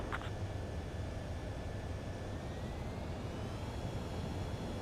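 A fighter jet approaching to land in Ace Combat 7, a steady roaring engine drone with a faint whine throughout, continuous and even in level, no talking.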